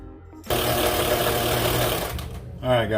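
A steady mechanical whir as 200lb hollow core braid line spools onto an Everol 20/0 reel, starting abruptly and running continuously close up before tapering, with a voice coming in near the end.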